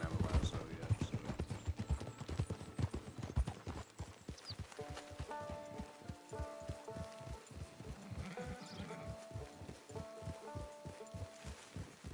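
Horse hooves clip-clop in a steady trotting rhythm in the video game Red Dead Redemption 2, close and fairly clear, with faint animal bleats and brief talk along the way.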